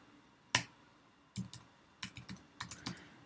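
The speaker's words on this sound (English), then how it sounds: "I'm terribly slow typing here." Typing on a computer keyboard, a sharp isolated click followed by a short burst of quick, uneven keystrokes, close and clear against a quiet room.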